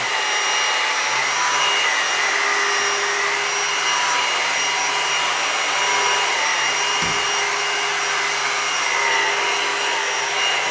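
A cheap cordless vacuum cleaner runs steadily and loudly the whole time, sucking up shavings, a constant whine with a broad airy rush and no voices.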